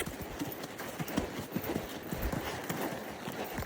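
Horse hooves beat in a quick, rolling cantering rhythm on a soft, rocky trail, fairly quiet with faint rustling around them.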